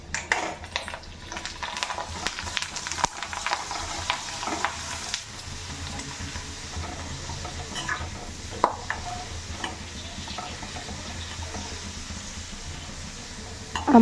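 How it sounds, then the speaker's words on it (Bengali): Food deep-frying and puffing up in hot oil, a continuous bubbling sizzle with occasional utensil clinks against the pan, close and fairly even in level. "আমাকে এগুলো ভাজতে ভালো লাগে, কত সুন্দর দেওয়ার সাথে সাথে সব ফুলে ওঠে"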